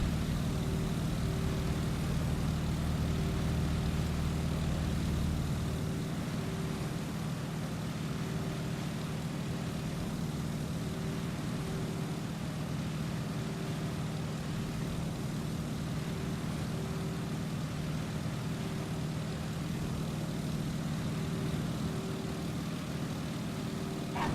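A propeller aircraft engine in the Microsoft Flight game throttles back on approach, its steady drone dropping to a lower, quieter hum after a few seconds and then holding constant, with no talking.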